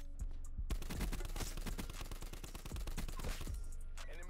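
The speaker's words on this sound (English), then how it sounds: "That's a lot of bullets." Dense automatic and rapid gunfire fills a Black Ops 4 multiplayer match, with sustained overlapping bursts for several seconds, loud and close, then tapering off near the end.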